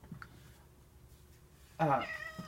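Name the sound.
cat meowing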